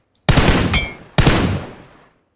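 Two loud bursts of rapid automatic gunfire in the video game PUBG Mobile, each firing off abruptly and trailing into a fading echo, close and alone.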